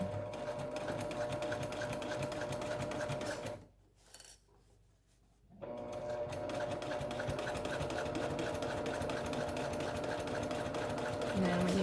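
A sewing machine stitching a fabric face mask casing, running steadily and loudly, cutting out for about two seconds, then resuming its continuous rapid stitching.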